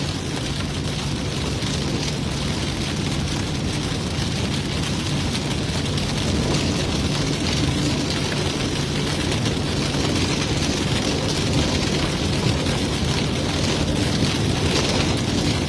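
Heavy rain beats down during a severe-warned storm in Texas, a loud, dense, unbroken roar of rain hitting surfaces close by, steady for the whole stretch with a low rumbling undertone.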